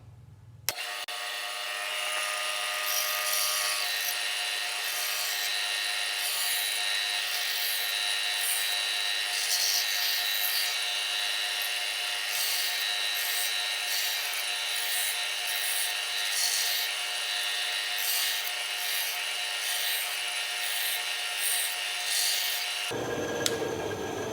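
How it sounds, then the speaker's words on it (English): Bandsaw cutting straight lines through wood for a mountain shelf project, a steady continuous whir with rasping blade noise running for most of the clip at close range, a sharp start and stop at either end, no talking. "I'm going to use the bandsaw, and all I'm doing is making straight cuts."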